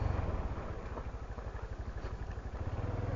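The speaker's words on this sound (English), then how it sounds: "I'm out here trail riding on the Honda Trail 125" A Honda Trail 125 motorcycle rumbles steadily along a desert trail in Arizona, its engine pulsing in a close, continuous low chug with no talk over it.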